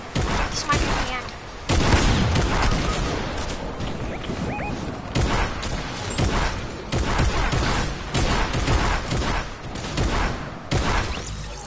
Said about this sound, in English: He's throwing stick bombs.